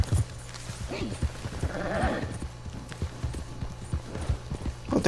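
Horse hooves clip-clop in the Red Dead Redemption 2 video game, a steady rhythmic trot of fairly close hoof falls. Someone speaks over the hooves and a brief animal bleat or whinny rises near the middle.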